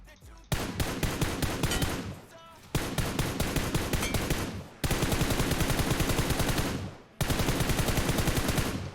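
Automatic gunfire sprays in long continuous bursts in PUBG Mobile, loud and close. Four sustained volleys are separated by short pauses.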